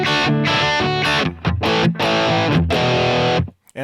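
Heavily distorted electric guitar through a Line 6 Helix amp model plays loud sustained chords with a few short choppy stabs, cutting out abruptly near the end.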